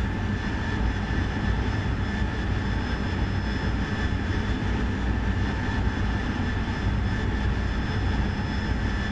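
A jet aircraft engine drones steadily in the DCS World flight simulator, a constant loud roar with high tonal whine holding through the whole stretch, cruising with throttle eased back, no voices.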